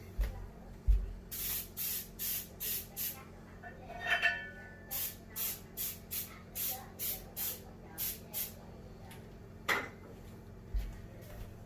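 Short bursts of Baker's Joy baking spray hiss into a loaf pan, a rapid series of brief sprays alone at close range, with a couple of light clinks and a thump in between.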